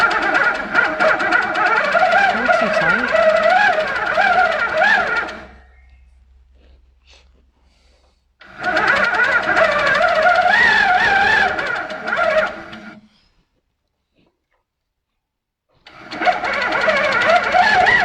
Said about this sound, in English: Just going to do a longer stitch so that we can really see.